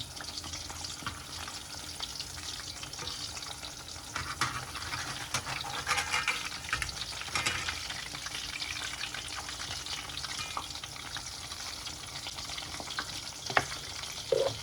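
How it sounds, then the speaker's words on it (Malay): Steady, quiet sizzling and crackling of battered shrimp frying in hot oil, with occasional scraping and stirring in an iron wok, continuous throughout. "gorenglah sehingga udang masak ya"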